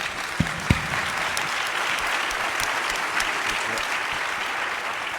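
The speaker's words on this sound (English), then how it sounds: "If everyone could give everyone a round of applause once again for their insights." Audience at a Reef Futures conference plenary session applauding a panel, a dense, sustained patter of many hands clapping at steady volume, with a couple of sharper close claps near the start.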